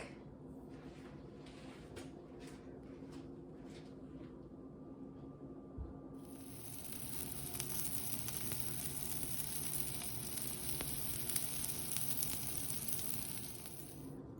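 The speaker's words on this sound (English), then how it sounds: "it only took a couple of minutes to cook this little sausage here" Jimmy Dean heat-and-serve sausage and a bagel heat on a stovetop, giving a steady, fairly quiet sizzle that grows a little louder and brighter partway through, with a few faint clicks near the start.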